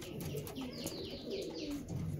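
Chinese teddy pigeons coo repeatedly in low throaty bursts with a few faint chirps mixed in, close and steady, with no talk.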